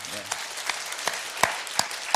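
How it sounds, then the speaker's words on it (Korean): A congregation at a church service gives young people a short round of applause, with scattered individual claps standing out and a voice briefly heard at the start. "우리 청년들을 위해서 오늘 박수 한 번이나 합니다"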